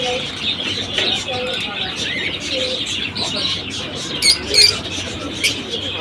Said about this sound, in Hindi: इसके अलावा हमारी शॉप पर ये फिशर के बड़े ब्रीडर पेयर मौजूद हैं।